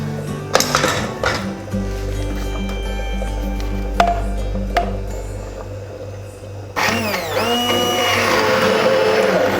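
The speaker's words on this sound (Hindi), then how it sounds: "तो अब हम इसको हैंड ब्लेंडर की मदद से थोड़ा सा इसको गोटा लगाएंगे" Electric hand blender briefly pulsing through cooked chana dal in a pot, a steady low motor drone lasting several seconds amid kitchen clinks and clatter, no talking.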